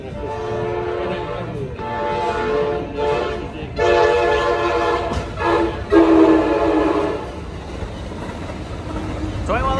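A Coaster commuter train passes at San Clemente with repeated horn blasts over a rumbling rail background, the horn sounding in several bursts that grow louder toward the middle before fading.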